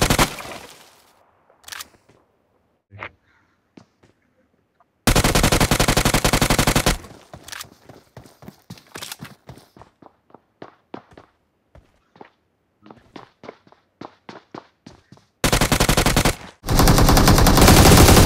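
Gunfire from the mobile game BGMI, with loud sustained automatic bursts alternating with rapid single shots in quick rhythmic runs, close and dominant throughout, separated by brief quiet gaps.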